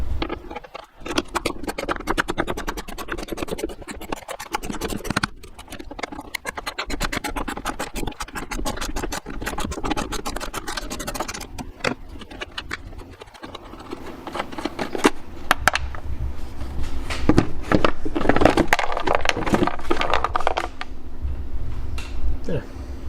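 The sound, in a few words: removing airbox housing screws on F250 Powerstroke diesel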